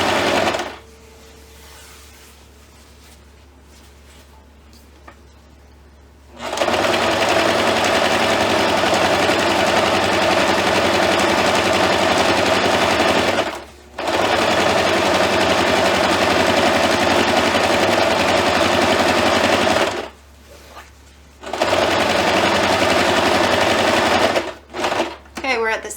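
A sewing machine runs in long bursts while stitching a seam on a Christmas tree skirt, its rapid rattling stitch loud and close, pausing several times, with quiet talk at the start.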